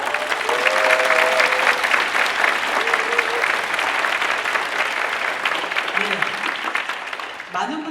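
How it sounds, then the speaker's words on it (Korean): Dense, loud applause from the audience at the Jinju Wind Band's 57th regular concert in November 2020 fills the hall steadily for about eight seconds, with a voice talking briefly over it. "여러분 힘찬 박수로 시작하도록 하겠습니다"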